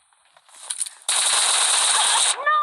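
Rapid automatic gunfire in the PUBG video game's survival arena mode, a loud sustained burst of close shots after a few scattered single shots, alone without talk.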